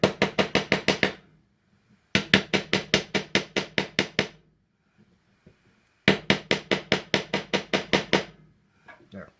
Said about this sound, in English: And a little tap and hammer.